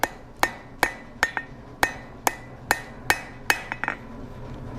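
A blacksmith hammers a short, steep point onto a steel J hook, with about a dozen sharp ringing metal strikes in a steady rhythm, some followed by quick lighter taps, close and loud.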